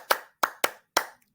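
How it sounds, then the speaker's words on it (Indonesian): Hands clapping in four sharp separate beats, the first two spaced wider and the last two closer, close and crisp with no talk. "tidak ada salahnya kita tepuk sebentar ya"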